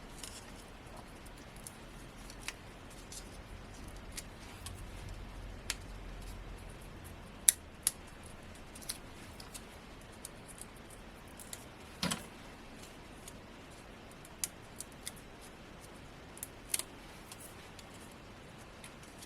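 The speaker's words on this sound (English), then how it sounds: "So I'm going to cut this one in half" Scissors snip through card during Christmas cardmaking, a scatter of quiet, sharp cuts spaced out over a hushed tabletop background with no talking.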